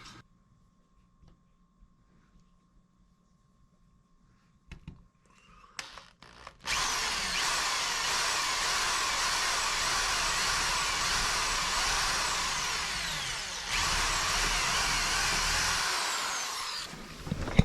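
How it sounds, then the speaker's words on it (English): A power drill starts after a few quiet seconds and runs steadily at a high whine for about ten seconds, drilling a hole in wood, briefly dipping once before continuing. "he's going to drill a hole"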